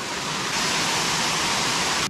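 Steady broadband roar of a waterfall on a tributary in the Jizera Mountains, close and constant, swelling slightly after a moment and cutting off abruptly at the end.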